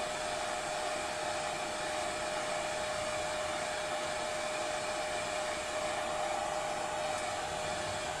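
A hair dryer blows on wet yellow paint with a brown tint. Its steady, even whir runs unbroken and close for the whole stretch, with no talking.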